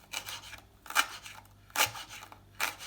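A bunch of fresh coriander being cut finely with a knife, four separate brisk crisp cutting strokes with short pauses between, close and quiet, no voices.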